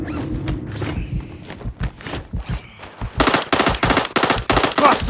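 Video game shooter gunfire: rapid automatic bursts crack out loud and close in the second half, after a stretch of quieter clicks, thuds and footstep-like movement.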